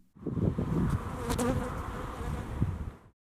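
Honey bees buzz thickly around beehives, a dense, close swarm drone that holds steady for about three seconds before cutting off.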